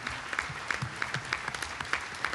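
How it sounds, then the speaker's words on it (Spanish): A hall full of people applauding doctors and medical workers at a hospital unit inauguration in Juárez. Dense, even clapping carries through the whole short stretch at a steady level, with no speech over it. "les demos un aplauso muy fuerte a todos ellos, a los doctores"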